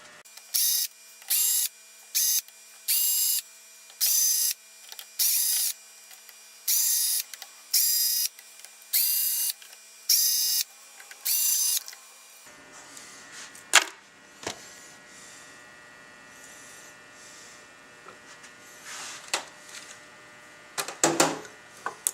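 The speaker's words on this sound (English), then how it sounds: "Time to remove the 10 screws." Ten screws being removed from a Cadillac air-conditioning part: about a dozen evenly spaced, loud whirring bursts of a driver spinning screws out, each lasting under a second, followed by quieter clicks and handling of loose metal parts.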